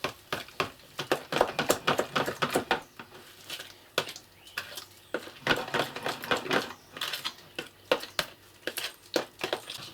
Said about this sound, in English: all I do is I cut these really fine.